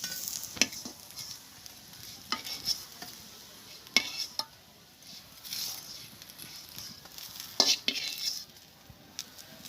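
Bora fritters sizzling in hot oil in a wok in a village kitchen, with sharp scraping and clinking of a metal spoon as they are lifted out at several separate moments.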